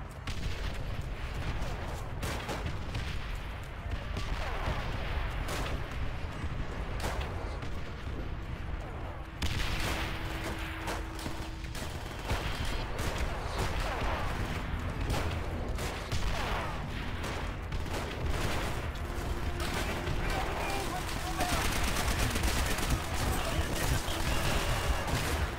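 Gunfire in Call of Duty: World at War, a dense battlefield of repeated shots and distant booming blasts rolling on throughout, with a voice speaking at times.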